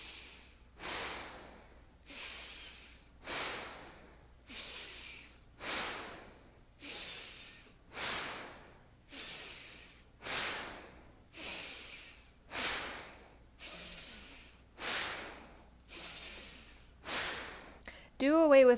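Forceful rhythmic breathing in a Kundalini-inspired yoga practice: about thirteen strong nasal inhale-exhale cycles, evenly paced roughly every second and a half, close and airy, ending with a brief voiced sound.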